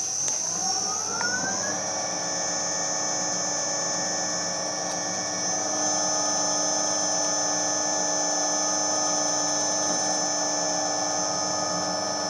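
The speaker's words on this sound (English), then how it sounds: "it's just drilling out for an M5 thread again" A machine drills out a hole for an M5 thread while making a shop-made test indicator holder. It spins up over the first two seconds, then holds a loud, steady whine with a constant hum and no talk.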